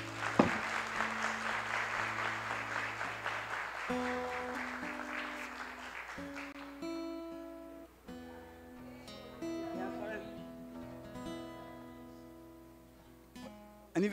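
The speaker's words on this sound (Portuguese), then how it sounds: "Vamos aplaudir o Senhor" A church congregation applauds together, a dense wash of clapping over sustained keyboard or organ chords, with the clapping strongest early and thinning as the music carries on.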